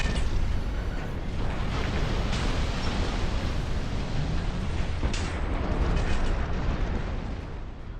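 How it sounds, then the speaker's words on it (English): A napalm bomb launcher in Armored Core 6 fires and leaves a burning blaze on the ground, heard as a continuous loud roaring rumble of fire and blasts, steady throughout with a few sharper bursts. "The napalm bomb launcher leaves a burning AoE on the ground and can be shot vertically or horizontally depending on if it's charged"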